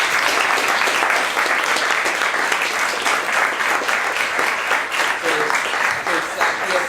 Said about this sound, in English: one more round of applause to Lori and Eric.